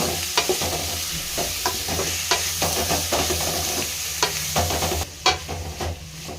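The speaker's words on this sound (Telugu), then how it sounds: "అల్లం వెల్లుల్లి పేస్టు ఒకసారి కలుపుకుందాము" Ginger garlic paste sizzles steadily in a hot pan for veg fried rice while a spoon stirs it, leaving a run of irregular scraping clicks over the constant frying hiss.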